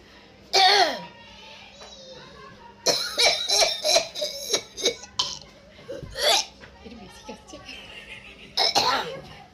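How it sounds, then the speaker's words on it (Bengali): Repeated harsh coughing bursts in a comedy skit, several loud fits separated by short pauses, with people talking between and around them. "আরে ওষুধটা দে না রে এত কাশি হচ্ছে কেন"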